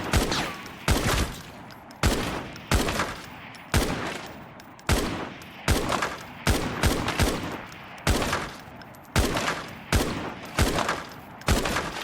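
Single shots from the QC61 rifle in the shooter game Arena Breakout: Infinite crack out at a steady, deliberate pace, each sharp report followed by a short echoing tail, loud and close with no talking.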